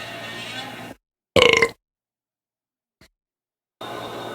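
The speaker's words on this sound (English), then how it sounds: "I do not apologize for my burps." One loud, short belch sounds out between moments of silence, close and alone with no talk over it.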